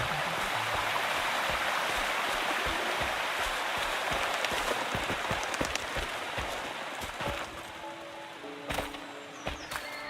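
Rushing water from a waterfall on a mountain shortcut in Wuthering Waves, a dense, steady broadband hiss dotted with splashy drips and a few soft thunks, fairly close and continuous.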